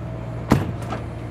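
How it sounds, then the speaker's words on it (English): A 2023 Newmar Super Star 4065 motorhome door shuts with one solid close thud, then a softer mechanical knock follows as the hydraulic entry step deploys, both near and over a steady low hum. "And then we've got the hydraulic step."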